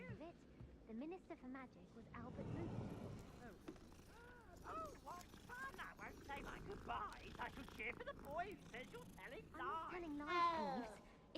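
Cats in the video game Hogwarts Legacy meow repeatedly through a gamepad speaker, with varied rising and falling mews. A low background hum and mechanical noises run underneath, and talk occurs in the clip.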